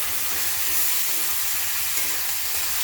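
Onion and green chili fry in hot oil in a pan, giving a steady, close sizzling hiss that runs unbroken throughout, with no voices.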